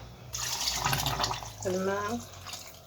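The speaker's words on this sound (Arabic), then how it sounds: "انا ساليت دابا نضيف عليه الماء" Water poured into lemon juice for a homemade citrus drink: a steady splashing pour runs for most of the moment, with a short voiced sound partway through.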